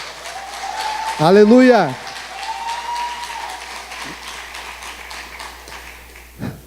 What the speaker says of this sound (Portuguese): Vamos recebê-los então com uma salva de palmas.